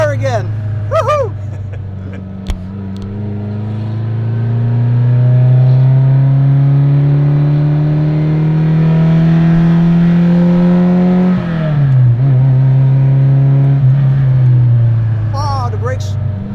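A Ferrari 308 engine revving while driving, a loud steady drone climbing in pitch through a long pull, dipping with a gear change, then rising again, with brief voices near the start and end.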